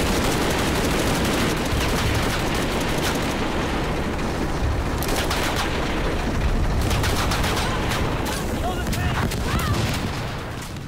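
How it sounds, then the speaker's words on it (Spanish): Explosion and gunfire-like rumble in the video game Shadow of the Tomb Raider, a dense, continuous roar of blasts and crackling debris filling the whole stretch, with speech mixed faintly underneath. "Eso es Lara, salta directamente una explosión"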